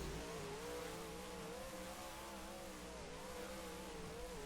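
A modified race car engine in the Roblox dirt track racing game drones steadily, a sustained buzzing whine that wavers slightly in pitch, fairly quiet and continuous with no talk.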